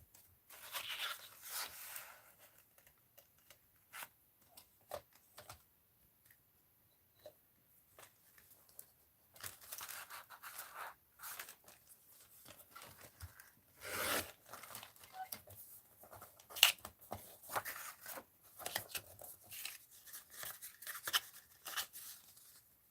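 Scissors trimming paper for a mixed-media art journal, producing quiet, intermittent snips and crisp paper rustles close by, in irregular bursts with pauses between cuts and a louder cluster near the middle.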